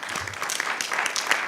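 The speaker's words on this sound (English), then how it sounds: "give them a round of applause" A room at a school board meeting breaks into applause for student artwork, a brief, dense patter of many hands clapping at moderate distance.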